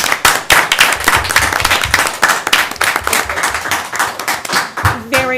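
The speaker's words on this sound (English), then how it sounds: "Can we just give a round of applause to our valedictorian and salutatorian," An audience at a school board meeting bursts into sustained applause, dense clapping filling the room for several seconds, with scattered voices mixed in and a few words of speech near the end.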